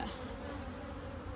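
Bees hum at an open top bar beehive, a steady close buzzing drone that holds evenly throughout with no voices.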